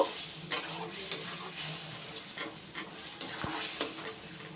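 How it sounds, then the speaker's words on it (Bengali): Spices being stirred into mutton paya in a pan, soft sizzling under quiet, intermittent scrapes of a spoon against the metal, fairly faint and close. "এবার এই সব দিয়ে খুব ভালো করে মিশিয়ে নেব।"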